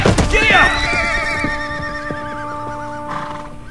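A horse neighs loudly in the video game Gun, a long wavering whinny up close followed by hoofbeats, with a voice speaking over the start.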